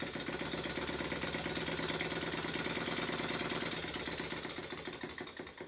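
Miniature model steam engine driving a generator, running fast with a rapid, even mechanical clatter, steady and close for most of the clip before easing slightly at the end.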